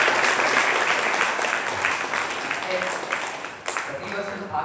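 A hall audience at a religious gathering gives a loud burst of applause. The dense clapping holds for several seconds, then thins toward the end with a few stray claps.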